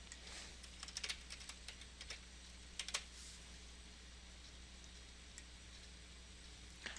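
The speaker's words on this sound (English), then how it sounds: "I'll type in my shared secret here" Computer keyboard keys are tapped in quick irregular clicks during the first three seconds, then only a sparse final tap, soft and close over a steady low hum with no talking.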